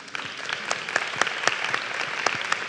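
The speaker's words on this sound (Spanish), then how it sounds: "Ahora sí la podéis aplaudir." Applause from the audience at a conference panel debate on human trafficking prevention, steady light clapping with scattered sharper claps, fairly distant and sustained throughout.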